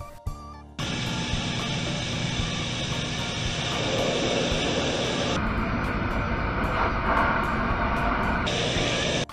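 An airplane in flight gives a loud, steady engine roar heard from inside the cabin near a small glass window, with abrupt shifts in the noise as it opens or changes.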